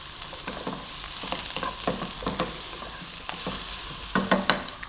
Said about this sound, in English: a little bit of the ginger, tablespoon of garlic, cup of onion. Just 2 minutes on this high heat,